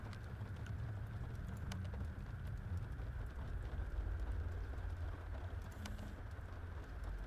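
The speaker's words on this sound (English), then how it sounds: "Might just be heavier rain." Heavy rain falls in the video game Unheim as a constant dense, low rumbling wash with scattered faint taps. It stays even throughout with no voices.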